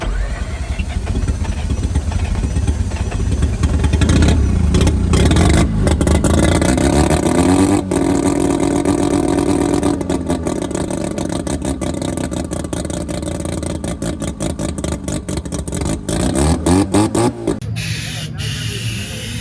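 A Rotary Power R7 rotary-engine drift car cranks and then revs loudly up close, its buzzing engine roar rising and falling, with people talking over the noise.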